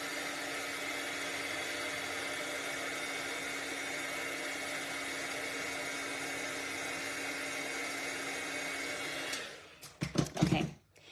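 A handheld dryer blows steadily for about nine seconds while drying stamp ink, a loud even whirring hum, then shuts off and is followed by a few clunky handling knocks.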